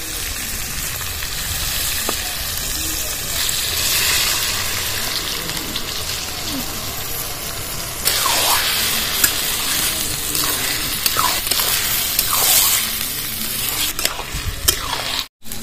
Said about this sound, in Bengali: এবার চালগুলো ঢেলে দেবো।